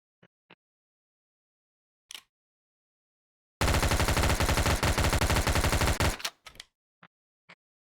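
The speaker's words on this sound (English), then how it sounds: "Sedra with a gun, let's go" Automatic gunfire from a gun in the VRChat game Sedra: a loud sustained burst of rapid shots lasting about two and a half seconds, with a few isolated single shots before and after.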